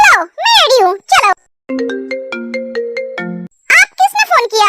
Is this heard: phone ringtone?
yes